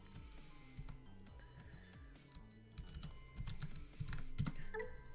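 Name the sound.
typing on a computer keyboard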